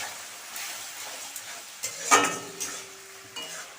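Spices hit a pan of fried tomato for palak paneer, a soft sizzle with scraping stirs and a sharp clink of a utensil against the pan near the middle, fairly quiet and close.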